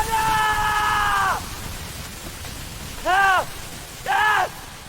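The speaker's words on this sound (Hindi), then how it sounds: "कबीर चीखा।" A horror-story scream effect: one long, wavering, high-pitched cry, then two shorter wailing bursts, loud and close against a low background hiss.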